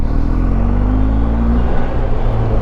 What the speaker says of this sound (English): Oh, I love that exhaust and engine noise, man.